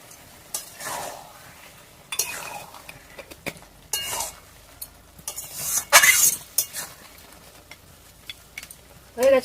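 Cooked taro leaves (kochu shak) stirred and mashed with a metal spoon in a pot, giving intermittent scraping strokes and sharp clinks against the pot in short bursts, with quiet pauses between.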